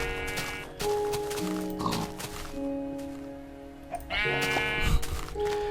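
Several sheep in the video game Minecraft bleat in overlapping, loud, nasal calls that come in bursts near the start and again toward the end, over faint game background noise and without talk.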